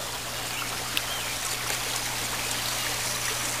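Water trickles and splashes steadily in an aquaponic tower, a continuous close wash of dribbling flow with small drips on top.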